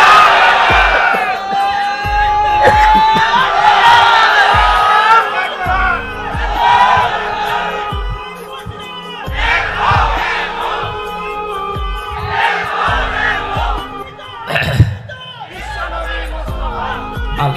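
A large crowd at a Bangladeshi Islamic waz gathering roars a chanted takbir response, loud massed voices in repeated surging shouts with cheering, over a reverberant public-address backdrop.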